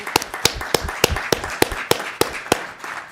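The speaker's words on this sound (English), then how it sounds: "Can we give a round of applause to all those students that achieved?" Sharp, separate claps spaced about a third of a second apart during a school committee meeting, sounding like only a few people clapping slowly rather than a full round of applause.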